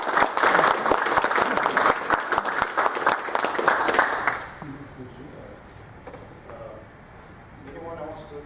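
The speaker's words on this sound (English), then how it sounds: "And so I just want to give you a big round of applause." Loud applause from an audience at a Masonic lodge research meeting, dense clapping for about four seconds before fading into quieter room noise with faint voices.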